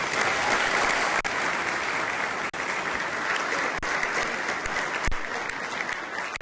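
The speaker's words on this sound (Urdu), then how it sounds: "حال میں موجود لوگوں نے تالیاں بجا کر نئے منتخب ہونے والے میئر کا بھرپور استقبال کیا" A hall audience gives a newly elected mayor loud, steady applause that carries on unbroken, dense and close, with no voices standing out.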